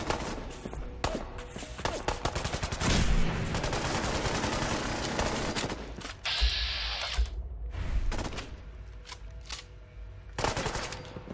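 A Fallout 4 sentry bot fires rapid, dense bursts of machine-gun fire mixed with mechanical clanking and thuds, loud and close, with short pauses between volleys.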